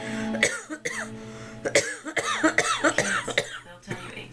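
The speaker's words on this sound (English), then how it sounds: "Sorry, had to stop for a cough break." A person coughs repeatedly indoors, several harsh, close bursts spread over about four seconds with short throat-clearing sounds between them.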